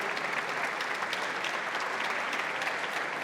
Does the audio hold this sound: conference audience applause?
yes